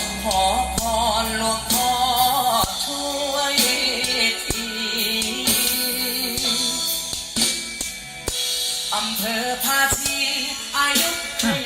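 Music with bright, crisp high end plays loud and continuous through a car speaker's treble output on a JKT three-way crossover, sharp treble sounds cutting over the fuller mix.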